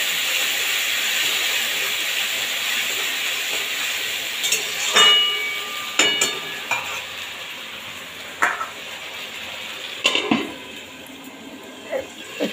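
Tomato and ginger paste sizzles steadily in a hot pan, a continuous bright hiss with a few clinks of a spoon or utensil against the metal, no talking.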